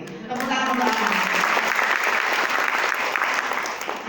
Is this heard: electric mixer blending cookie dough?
no